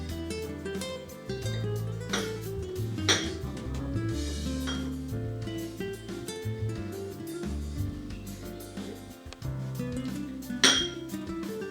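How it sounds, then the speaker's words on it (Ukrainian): Spoonfuls of a carrot-juice base are dropped into small dishes, with repeated metallic clinks and taps of spoon against glass and ceramic, close and steady throughout without talk. "Тепер, нашу основу розкладаємо по одній столовій ложці в кожну ємкість."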